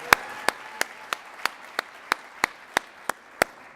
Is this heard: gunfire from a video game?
no